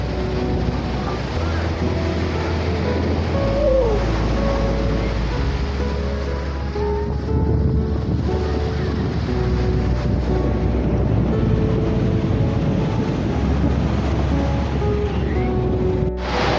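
Continuous roar of sea waves washing onto RK Beach in Visakhapatnam, India, broad and steady with wind buffeting the microphone, no talking.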